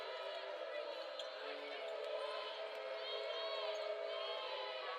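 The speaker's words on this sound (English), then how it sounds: "Listen to this crowd." A home crowd at a Gonzaga versus Loyola Marymount women's basketball game roars in a steady, continuous wash of cheering that holds at an even level throughout.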